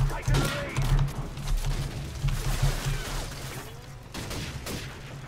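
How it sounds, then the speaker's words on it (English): Mounted machine gun with a double-tap perk firing in Call of Duty 4 on PC, rapid bursts of close gunfire crackling in a steady stream, with someone talking over the shooting. "Using double tap on a fucking mounted machine gun in 2016."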